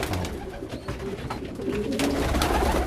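French meat pigeons cooing in a loft, soft repeated throaty coos close by, with bird movement around them and no voices.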